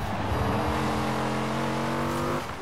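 Race car in Forza Horizon 4, a loud steady engine drone with tonal harmonics as it slows under hard braking into a turn, close and continuous.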